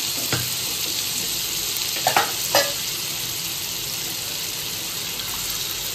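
Sesame seeds, mustard seeds and butter sizzle steadily in a hot pan while cooking paneer bhurji, a continuous close frying hiss with a few brief crackling pops and stirring clinks, no voices.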